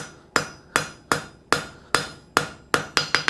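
Hammer blows ring on hot steel at an anvil while forging a saw tooth edge, about nine sharp metallic strikes in a steady rhythm that quickens into a rapid triple at the end, close and loud.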